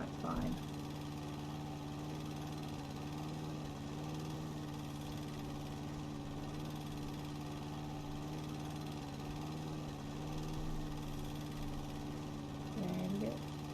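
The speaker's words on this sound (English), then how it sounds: "we're going to try and drift the mower, oops, along the top" Riding lawn mower engine from House & Garden Flipper hums steadily and close, a low droning idle-like tone that holds its pitch throughout, with a person talking over it at times.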